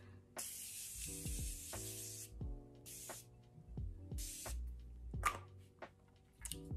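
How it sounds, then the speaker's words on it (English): Morphe Continuous Mist setting spray released in several sharp hissing bursts, close and fairly quiet, with brief gaps between sprays and no talking. "Where is my setting spray?"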